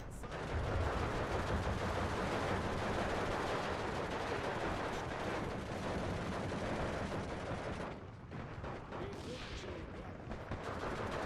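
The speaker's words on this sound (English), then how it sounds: "that mortar fire coming down there" Mortar and gun fire rumble through a Steel Division 2 battle, a dense continuous barrage of blasts and crackling shots with a brief lull before it resumes, no clear speech.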